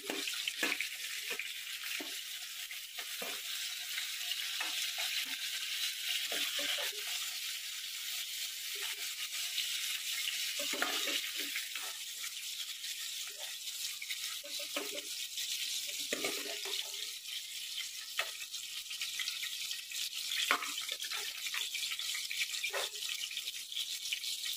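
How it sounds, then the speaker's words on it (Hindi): Potato and pointed gourd pieces frying in oil in a pan, a steady soft sizzle throughout with occasional small crackles and pops, no voices. "ये आलू पटल अच्छी तरह से फ्राई हो चुके हैं"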